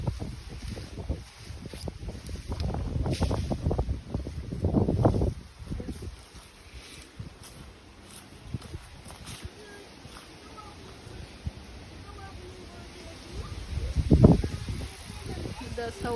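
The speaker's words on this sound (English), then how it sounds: "That's how windy it is." Strong storm wind roars through backyard trees, surging loud in broad gusts early on, easing to a steadier rush, then swelling again near the end, with buffeting on the microphone throughout.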